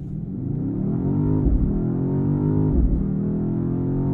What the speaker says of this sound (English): we'll just use launch control by holding my foot hard on the brake, pinning the throttle, wait for it to say we're good to go, and peel my foot off the brake